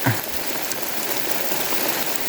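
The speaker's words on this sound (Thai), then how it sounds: "ฝนตกชุ่มฉ่ำเย็นสบายพี่น้อง" Steady rain pours down over an upland farm field, a dense, even hiss of drops drumming on surfaces with no pauses and no voices.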